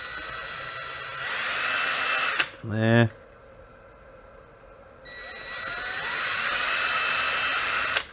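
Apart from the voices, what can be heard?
drilling a pilot hole for an electric kayak motor mount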